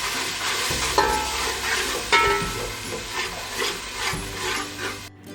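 Masala with cumin powder fried in a pan for beef bong, with a steady sizzle and spatula scraping throughout, close and moderate, ending abruptly; no one speaks.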